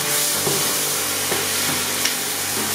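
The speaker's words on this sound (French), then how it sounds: "donc on va cuire ça tranquillement" Onions frying gently in a pan for a lamb tagine, a steady close sizzle and hiss with a few soft stirring taps, no speech.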